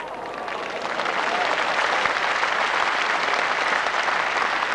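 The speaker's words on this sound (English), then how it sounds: "Well, the crowd recognise what a good position that is from Willie Wood." Crowd applause at the 1984 World Lawn Bowls singles final, a steady wash of clapping that holds at full strength from start to finish.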